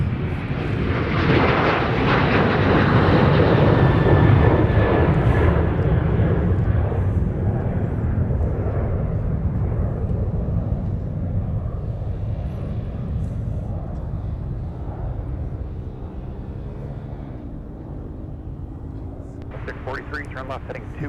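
A Delta Boeing 737-900 jet roars on departure from Minneapolis–St. Paul airport toward Las Vegas, loud and broadband at first, then slowly fading into a distant rumble over about twenty seconds.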